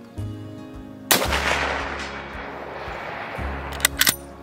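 A 9.3x57 rifle fires once at a 200-yard target, a loud sharp report with a long rolling echo, followed by a few faint clicks and a second shorter burst near the end.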